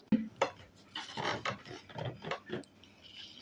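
A metal spoon is fetched and handled with a couple of sharp clinks at first, then a run of scraping, rattling cutlery sounds nearby.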